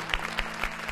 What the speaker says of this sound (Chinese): 掌声欢送他